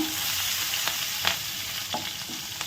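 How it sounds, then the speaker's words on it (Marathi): Finely chopped green chili pieces drop into hot oil with cumin seeds and sizzle steadily, with a few stirring scrapes of a spoon close by. "जिरे चांगले फुलले की यामध्ये आपले जे मिरचीचे तुकडे आहेत बारीक चिरून घेतलेले ते टाकून घेऊया"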